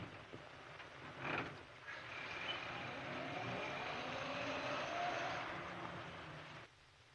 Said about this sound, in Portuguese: o som fora da tela da porta de seu carro fechando e o carro partindo é ouvido apenas na trilha sonora